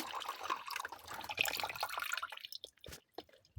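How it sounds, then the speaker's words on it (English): Small water fountain trickling inside a homemade Lego water-cooling portable air fan, a close, steady splashing and dripping that thins out and falters near the end. "we have a water fountain."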